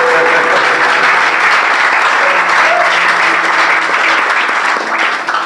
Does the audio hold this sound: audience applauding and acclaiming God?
yes